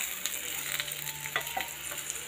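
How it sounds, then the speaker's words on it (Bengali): Egg omelette frying in a pan in a home kitchen, a steady crackling sizzle with a few light scraping or stirring clicks, close and alone without speech. "ছেলেকে ডিমের অমলেট বানিয়ে দিচ্ছি"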